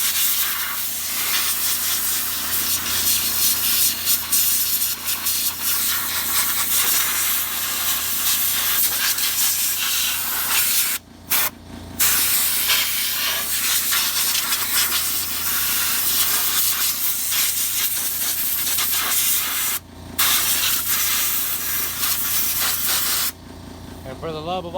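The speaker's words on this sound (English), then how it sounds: "we're going to hit it with a little bit of air to make it dry quicker" Compressed air hisses loudly and almost without pause while blowing dirt off car parts freshly sprayed with non-flammable brake fluid during a tune-up, cut by a few brief breaks, with someone talking over it.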